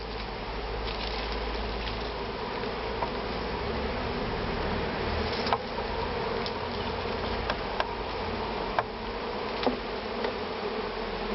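A swarm of honeybees being recovered in Loudéac, Brittany, makes a dense, continuous buzzing hum, close and steady, with a few faint knocks and clicks.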